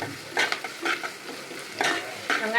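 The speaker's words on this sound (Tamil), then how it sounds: "பச்சை மிளகாலாம் கொஞ்சம் தெளிக்கும் ஜாகிரதையாக பண்ணுங்க" Green chillies sautéing in a pan of oil for a Tamil-style fish curry, with bursts of sizzling and a utensil stirring and scraping in short repeated strokes, close and fairly loud.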